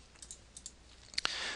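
Keys on a calculator are tapped in a few light, quick clicks, with a couple of sharper presses near the end, heard up close against faint background noise.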